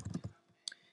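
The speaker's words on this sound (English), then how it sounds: "So simply, I double-click here, and it becomes highlighted" Computer mouse clicking while editing a document in Pages 08, heard as a soft, close burst of quick clicks followed by one sharper click, faint and with no talk.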